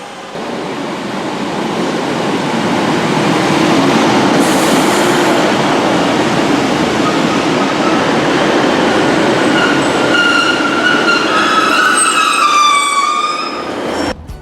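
A train runs along railway tracks near Longside Depot with a loud, steady rumble and rattle of wheels. A rising metallic squeal joins near the end before the sound cuts off.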